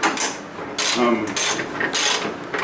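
A ratchet tightens bolts on a bolt-on mesh frame, giving bursts of quick clicking strokes at close range, several short runs separated by brief pauses, with no talking.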